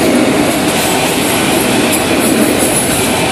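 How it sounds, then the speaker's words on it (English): An FEC freight train rolls slowly past at close range, a loud, continuous rumble of railcars with faint wheel clatter and squeal. No voices. "this train's actually going slow enough for me to actually read it."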